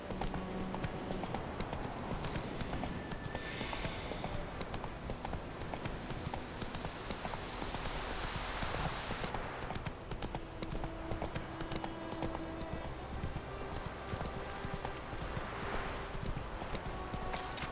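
Roach, Geralt's horse in The Witcher 3 on PS4 Pro, trots with steady, continuous hoof clip-clop throughout, set against game ambience and the occasional brief whinny-like sound.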